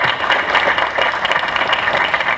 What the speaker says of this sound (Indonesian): Mohon diberi tepuk tangannya.